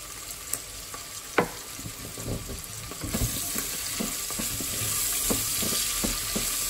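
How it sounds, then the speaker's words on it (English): A pork stew with tomato sizzles in a pan while a spoon stirs it, giving soft scrapes and occasional knocks over a steady frying hiss that builds slightly toward the end. "Continue stirring."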